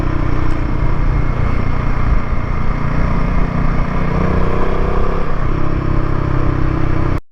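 A Royal Enfield Himalayan motorcycle runs at speed through a lean on a mountain road near Devprayag, its engine a loud, steady drone with wind rush and faint clatter and no break for the whole stretch.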